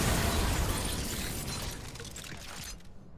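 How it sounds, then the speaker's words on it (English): A large in-game explosion in Remnant 2 bursts loudly at once, then a rumbling, crackling roar with debris-like clatter slowly fades over a few seconds. "Yeah, that's explosion damage."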